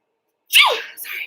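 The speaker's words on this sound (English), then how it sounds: "sneezing." A single sharp sneeze bursts out after a moment of silence, close and loud, trailing off into a short breathy tail.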